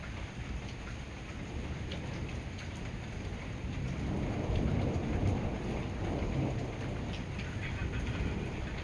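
Heavy thunderstorm with steady, dense rainfall drumming on surfaces throughout, swelling louder midway with low rumbles of thunder rolling underneath; no voices.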